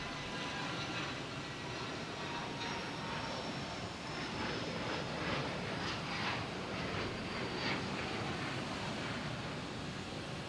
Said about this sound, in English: You have a private jet here taking off.